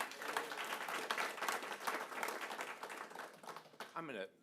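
Dense, sustained applause from the audience at a county council meeting fills the room, clapping steadily before tapering off as a voice begins at the end.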